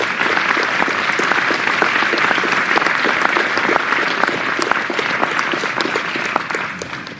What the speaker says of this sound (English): Let's give them all a big round of applause for what they have done.